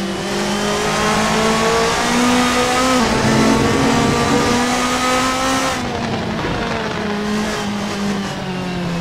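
Race cars lapping Interlagos in a racing video game, engines whining loudly and continuously with shifting pitch as they accelerate, with no pause and no talking.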